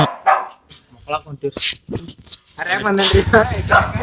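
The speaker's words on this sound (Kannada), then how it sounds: "ಒಂದ್ ನಾಯಿ ಕರೆದ್ರೆ ರೆಡ್ ನಾಯಿ ಬಂದು ನೋಡ್ರಿ" A dog barks and yips in a village, in a few sharp bursts near the start, then people talk loudly over it.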